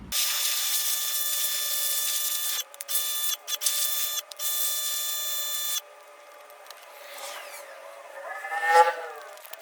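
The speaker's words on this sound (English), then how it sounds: "We'll go power wash our piece of trim here." A pressure washer cleans a faded plastic car cowl grille trim. A high, whining motor tone with spray hiss runs steadily, cuts out and restarts briefly several times, then stops, leaving fainter swishing water sounds.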